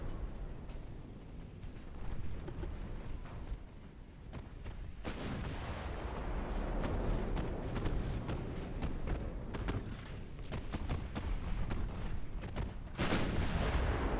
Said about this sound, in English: let's get your secondaries firing on the transports